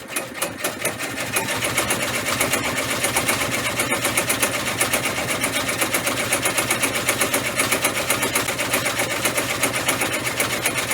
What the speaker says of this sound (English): It does look like the machine is behaving okay as far as not creating loops on this last final satin stitch.